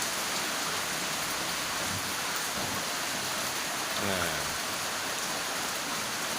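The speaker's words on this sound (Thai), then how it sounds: "แหมท่ามกลางบรรยากาศฝนตกครับตอนนี้" Steady rain pours down at a rural countryside home during outdoor cooking, a constant soft hiss of drops filling the scene, with a faint voice briefly heard partway through.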